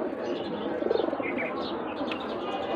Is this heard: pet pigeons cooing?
yes